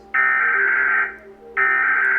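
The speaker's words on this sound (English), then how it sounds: "The one I'm used to is America's that sounds like this." American emergency alert tone: two loud, harsh, steady electronic blasts, each about a second long with a short gap between them, heard alone.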